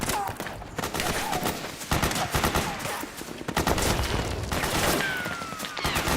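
Rapid bursts of automatic gunfire in the Metal Gear Solid 4 shootout, loud and close, with near-continuous volleys, scattered single shots and soldiers' voices shouting through the firefight.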